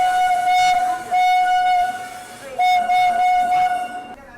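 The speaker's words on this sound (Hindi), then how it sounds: "बाकी चलिए ट्रेन पहुंची है 11:30 बजे" Patna Express pulls into the station sounding a long steady horn, then a second blast after a brief gap, loud over the rumble of the train and platform noise.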